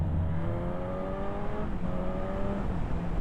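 Suzuki GSX-S950 motorcycle engine revving on a switchback, a steady close drone whose pitch slides down, dips briefly mid-way, then climbs again, with wind rush underneath.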